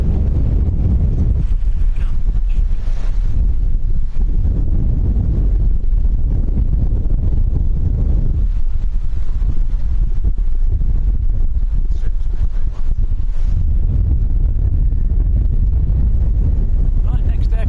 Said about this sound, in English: Nothing we can do about the wind, guys, I'm afraid. It's just blowing a gale.